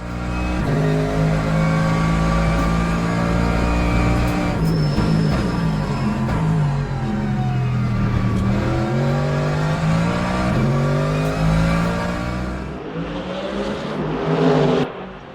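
Mercedes AMG GT3 race car with a V8 engine revving hard and loud for a long stretch, pitch climbing and falling through gear changes, then easing off before a final burst of revs.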